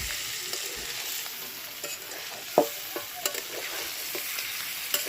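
Bhetki fish heads and bones, fried beforehand, stirred and sautéed with potatoes in a pan: a steady soft sizzle with scattered scraping clicks from a spatula, one sharper knock midway, no talking.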